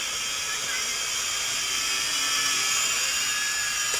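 An Eachine E708 drone hovers outdoors in wind, its motors giving a steady high-pitched whir with a constant, even drone and slight tonal drift, fairly close and unbroken throughout.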